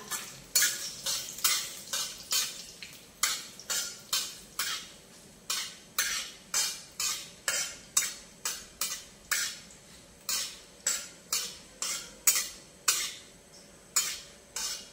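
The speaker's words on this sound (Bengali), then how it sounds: "কাজুটা হালকা ভাজা হয়েছে" Cashew pieces and bay leaves frying in a pan: rhythmic, evenly spaced spatula scrapes and stirs over a light sizzle, close and steady, with no talk.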